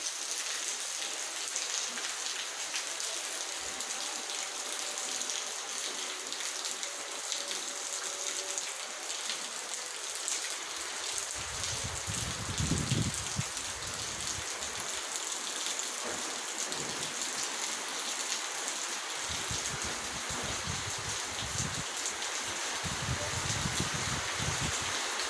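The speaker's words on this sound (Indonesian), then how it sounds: "Ini suasana atau kondisi hujan disertai angin kencang di kawasan Simpangaru" Heavy rain with strong wind pours over the Simpang Haru area of Padang Timur, a dense continuous hiss of drops on surfaces, with low gusty rumbles rising now and then throughout.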